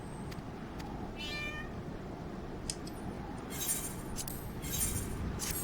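A cat in Final Fantasy XIV meows a few times, with bright short clinking chimes and game ambience running alongside.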